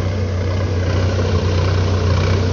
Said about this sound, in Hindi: इसको पूरा हल मार रहा है, ये पूरा ट्रैक्टर से